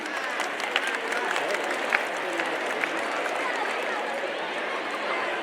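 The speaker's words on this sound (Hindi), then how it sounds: "तो एक बार जोरदार तालियां बजाकर उनका वेलकम कीजिए।" Crowd applause at a sports event welcoming India's sports minister, a steady wash of many hands clapping throughout with a few sharper claps standing out, fairly loud and continuous, with some background voices mixed in.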